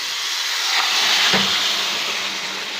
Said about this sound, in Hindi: अब इसमें हम ये चिकन डाल देंगे।